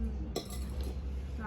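A spoon mixing dhokla batter in a bowl, a brief metallic clink followed by soft scraping and stirring, close and fairly faint over background hum.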